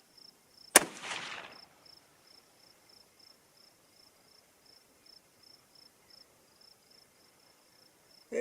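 A single loud, sharp report from a Uintah Precision UPR-15 bolt-action AR rifle in 6mm ARC firing 80 grain Sierra bullets, with a short echoing decay, then quiet with faint insect chirping.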